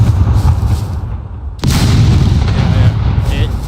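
Turret firing in the game SCUM, a loud booming blast about halfway through that cuts through a continuous heavy rumble, followed by sustained noisy roar.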